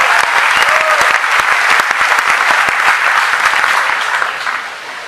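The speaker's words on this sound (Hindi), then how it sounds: "जोरदार तालियों से उस महान विभूति के लिए आप कविता मंजूर करें" Loud, hearty applause from the audience at a youth poetry gathering at MNIT Bhopal, honoring a recited poem; dense sharp clapping sustained for several seconds before tapering slightly at the end.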